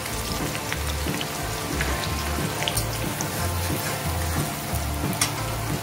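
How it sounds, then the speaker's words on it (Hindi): Onions sizzle in a small amount of hot oil in a kadai with a steady, dense crackle like rain, and now and then a low scrape of stirring beneath it. "अब इसमें मैं प्याज डाल दूंगी"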